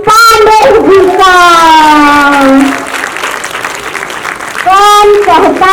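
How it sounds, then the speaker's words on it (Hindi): Applause welcoming a guest at a charitable foundation event handing out computers and sewing machines, heard as a short burst of clapping under loud amplified singing or announcing voices that dominate throughout. "जोरदार तालियों से स्वागत कीजिए श्रीमती सोनी पांडे जी का।"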